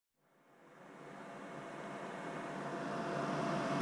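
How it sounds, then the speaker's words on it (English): Fans run inside a bus at night with a diesel heater on, a steady broadband whoosh that fades in from silence and stays faint and constant, with no talking. "I apologise for the noise of fans."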